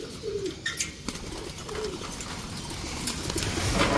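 Racing pigeons let out for a toss at La Union coo and call close by, with brief wing flutters, then a more diffuse rush of bird noise builds toward the end.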